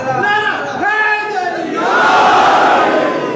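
At a religious gathering, a leader's voice calls out and a crowd with raised hands answers with a loud slogan chant, the massed voices swelling into a dense roar.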